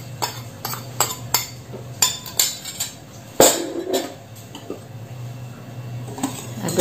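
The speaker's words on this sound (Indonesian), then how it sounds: "Aduk-aduk rata seperti ini supaya tercampur merata." Spoon stirring peanut brittle batter of coconut milk, salt and stock powder in a bowl, a run of sharp clinks and scrapes in irregular rhythm, close and fairly quiet, with no talk.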